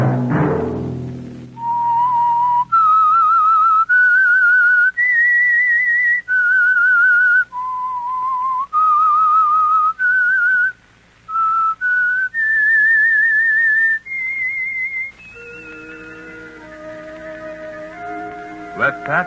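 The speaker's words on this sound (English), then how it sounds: "Let that whistle be your signal for the Whistler" A lone, clear whistled melody carries the theme of The Whistler radio mystery show, a sequence of sustained notes rising and falling for about fifteen seconds before an orchestral passage swells in.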